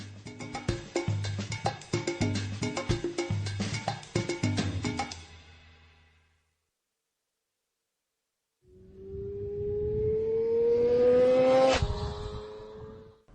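A racing motorcycle ridden at race pace on a circuit: after a busy stretch and a silent gap, the engine howls in loud and close, its pitch climbing steadily through the gears before cutting off.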